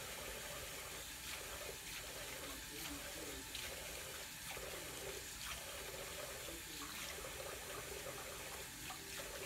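Tap water running into a sink while a face is washed, a steady splashing stream with soft irregular splashes from hands, close and fairly quiet.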